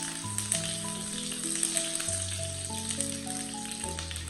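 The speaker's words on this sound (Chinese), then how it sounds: "油热之后，把准备好的老姜稍微的炒一下，" Old ginger stir-fries in hot oil in a wok, giving a steady, close, crackling sizzle that runs throughout beneath background music.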